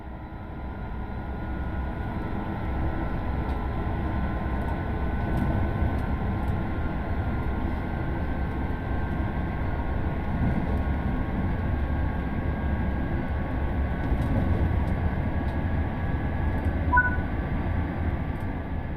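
Train running in the video game Train Sim World 4: a steady, loud, continuous rumble of the train in motion with a faint high electrical whine on top and no voices.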